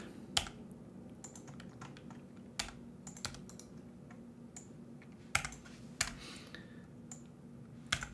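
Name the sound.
typing on a computer keyboard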